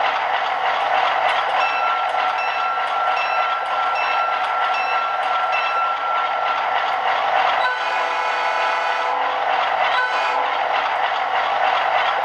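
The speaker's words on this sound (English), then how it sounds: "As usual, functions 1 and 2 toggle the bell and horn respectively." Bowser HO Alco Century 630 model locomotive sounding its bell and horn over a steady diesel drone: a continuous, loud, tonal blare with a brief dip and a return, close and without talk.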